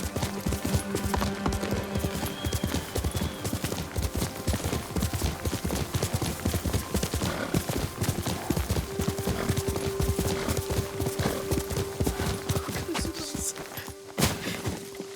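Horse hooves galloping in the samurai video game Ghost of Tsushima, a fast continuous clip-clop rhythm up close, with game music tones and a brief whinny-like sound, ending in a sharp crash.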